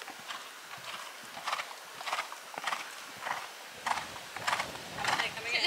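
A horse trots under saddle, its hooves landing in a steady, regular two-beat clip-clop at moderate distance, with faint background noise throughout.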